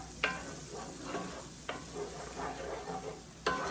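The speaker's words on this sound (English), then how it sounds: "And we're gonna add in our frozen peas." Frozen peas warm in a pan with halibut, mushrooms and butter, a faint steady sizzle punctuated by three sharp spoon scrapes against the pan, spaced a second or so apart.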